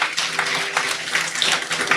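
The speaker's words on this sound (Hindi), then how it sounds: "जोरदार तालियां बजाइए दोनों हाथों से मेरे लिए" An audience at a religious ritual gathering claps loudly with both hands, a dense, steady burst of many hands sustained for two seconds with no voices.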